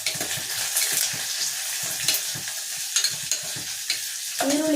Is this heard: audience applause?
no